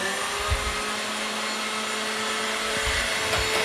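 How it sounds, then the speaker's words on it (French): An electric hand mixer whips egg whites and sugar into meringue for pineapple and verbena macarons, a steady whirring motor hum running throughout with faint low thumps as the beaters knock the bowl. "je ne coule pas tout d'un coup et j'accélère mon batteur."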